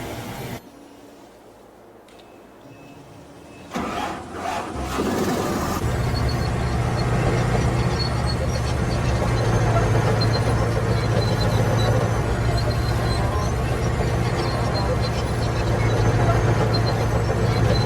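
After a few quiet seconds and some clunks, a combine harvester engine in Farming Simulator 22 settles into a steady, droning hum that continues unchanged.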